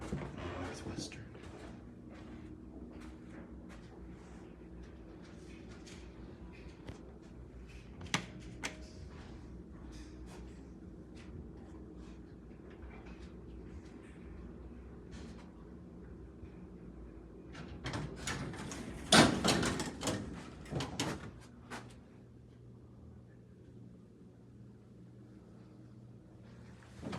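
An old 1967 Northwestern Dover elevator in a Milwaukee apartment building operates with a low motor hum and rattling, and a loud burst of door and car movement comes near the end before it settles back to a quiet hum.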